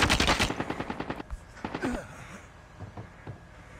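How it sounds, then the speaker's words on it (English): Rapid automatic gunfire in a Call of Duty Mobile battle royale match, a loud burst of repeated shots up front that thins into scattered, fainter shots and distant game noise. "Oh no, somebody's shooting at me."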